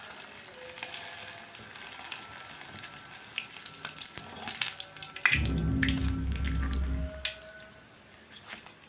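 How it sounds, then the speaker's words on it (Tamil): Idiyappam vathal dropped into hot oil in a kadai, bursting into a loud bubbling sizzle partway through that holds for a couple of seconds before easing, over a softer background of kitchen clatter and running water. "அடுப்பில் கடாய் வச்சு எண்ணெய் போட்டிருக்கேன் ஒரு ஒரு இடியாப்பம் வத்தெல்லாம் அப்படியே அதை போட்டு வறுத்துடலாம்"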